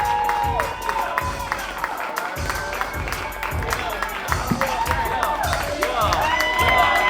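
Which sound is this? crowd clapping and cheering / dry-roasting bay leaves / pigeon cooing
crowd clapping and cheering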